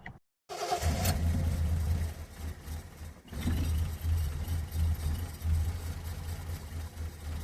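A 1974 Triumph TR6 engine with its timing off cranks after a brief silence, then catches and settles into a loud, uneven idle close by.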